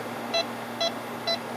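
Electronic freon leak detector on an air conditioning unit, emitting three short, evenly spaced high beeps over a steady background hum.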